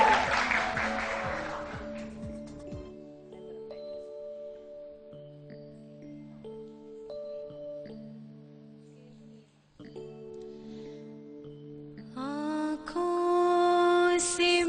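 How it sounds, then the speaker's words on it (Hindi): A brief burst of studio audience clapping on a morning TV show opens, then fades into sustained harmonium notes, with singing rising near the end. "तालियां"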